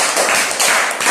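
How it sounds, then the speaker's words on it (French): An audience at a talk applauds itself in a short, loud burst of dense clapping that fills the whole moment. "Applaudissez pour vous"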